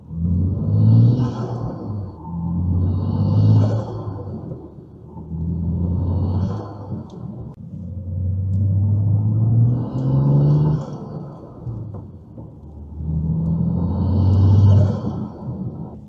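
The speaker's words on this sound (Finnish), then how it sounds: "tänne kabininkin kuuluu toi turbovihellys" A BMW M2 with an upgraded intake, heard from inside the cabin as it accelerates through repeated surges, deep engine rumble rising and falling with a faint turbo whistle over each pull, no voices.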